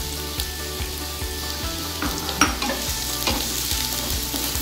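Chopped onion frying in refined oil in a pan, a steady close sizzle with rhythmic scraping stirs against the pan roughly every half second, moderately loud with no talking.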